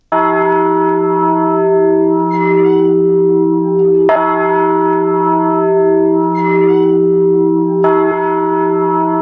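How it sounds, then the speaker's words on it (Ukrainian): Deep, heavy old church bells ring loudly and steadily from a belfry on the Hungarian–Ukrainian border, their long resonant tones overlapping, with fresh strikes roughly every four seconds and no voices. "Важкі старовинні дзвони, однаково гучні на обидва боки."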